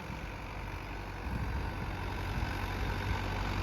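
Sonalika 750 III tractor engine idling outdoors, a steady low diesel rumble with a constant broadband hum and no speech over it.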